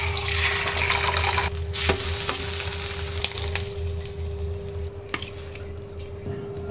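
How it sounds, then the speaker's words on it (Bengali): Eggs frying in oil in a pan, giving a steady close sizzle with a few faint clinks and scrapes of stirring throughout. "ডিম ভাজি করতেছি"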